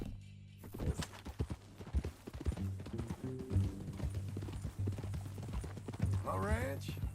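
In Red Dead Redemption 2, a horse's hooves clip-clop in a steady walking rhythm under ongoing conversation, and a short whinny rises near the end.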